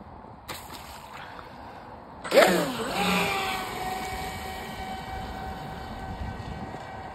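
Proboat Recoil 2 RC boat, bone stock on a 3S battery with the stock propeller, launching and running on choppy water: a high whining motor rises sharply after a splash and holds a steady buzzing drone, with some watery rush.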